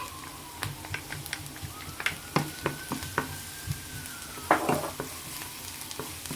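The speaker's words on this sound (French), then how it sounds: "On va faire revenir l'oignon dans l'huile jusqu'à ce qu'il devienne translucide." Chopped onion and garlic sizzle in hot oil in a pan, a soft steady crackle broken by several sharp scraping stirs of a utensil, close and fairly quiet, with no talking.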